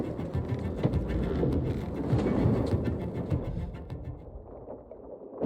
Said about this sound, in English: Is there a storm coming or something?